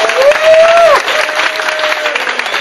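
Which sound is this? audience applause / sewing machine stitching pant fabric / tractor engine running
audience applause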